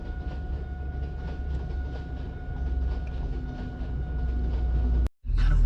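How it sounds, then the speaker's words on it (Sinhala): A train rumbles past in a steady, loud roar with faint rhythmic clatter heard from a road during a rainy trip, ending in a sudden cut. "කෝච්චියකුත් සෙට් වුණා අපිට"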